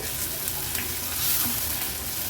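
Chopped onion with a tablespoon of ginger-garlic paste sizzles steadily in a hot pan, a close, continuous frying crackle with faint stirring scrapes and no voices.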